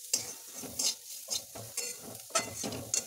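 Green chilies and turmeric powder fry in a pan for flattened-rice pulao, with a steady close sizzle broken by repeated sharp spatula scrapes every half second or so.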